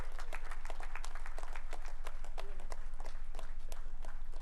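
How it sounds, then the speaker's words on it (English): A convocation audience applauds a donor with steady, dense clapping from many hands, moderately loud and sustained throughout without a break. "Can we have big claps for him?"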